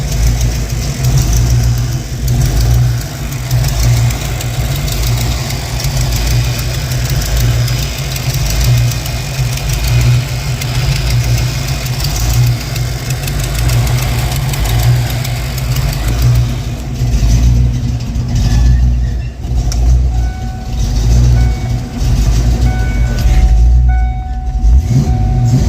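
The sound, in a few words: 1993 Ford Mustang engine running after refuelling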